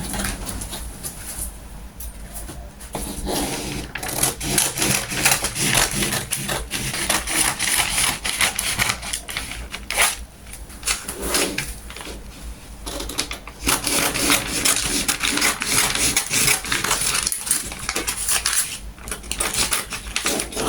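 Scissors cut out a paper blouse pattern, giving a long run of close, crisp snipping and crunching paper sounds in uneven bursts with brief pauses between them. No one speaks.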